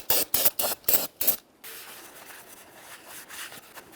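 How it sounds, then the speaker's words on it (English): Several short bursts of aerosol parts cleaner sprayed onto the mating surface of a Nissan Maxima rear brake rotor, close and loud, hissing in a quick uneven rhythm before fading into low room noise. "You can use some parts cleaner, wire brush if necessary."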